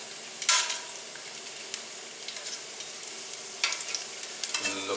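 Rosemary sprigs fry in a pan of oil with a constant close sizzle, broken by a few scraping flips and stirs as they are turned over, with no voices.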